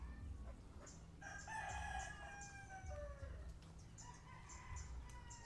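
A Gray gamecock at a game farm crows a few times at moderate distance, with clucking and other fowl calls mixed in over low background noise.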